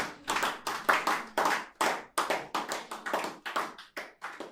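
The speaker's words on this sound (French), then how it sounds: "Applaudissez, c'est pour le Seigneur que vous applaudissez" A church congregation claps in rhythmic bursts, clusters of quick hand claps in a rough repeating pattern with brief gaps between groups, close and crisp, without talk.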